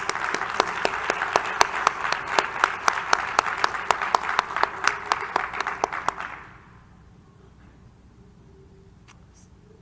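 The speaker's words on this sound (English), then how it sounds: "we all deserve a round of applause" Audience applause at an academic conference gathering, a dense round of clapping with sharp individual claps that carries on for about six seconds and then stops abruptly, leaving a quiet room.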